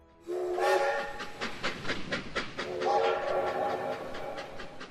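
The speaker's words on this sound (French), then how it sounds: "Et ce train à vapeur qui passait" A steam train passes with its whistle blowing: a loud, harmonic shriek sounds twice over a rolling, chugging rumble of the locomotive and wagons, fairly near and with no talking.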